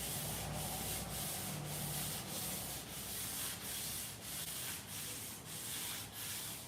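Sanding by hand, sliding back and forth in a steady rhythm of about eight close, even rasping strokes, alone and fairly quiet.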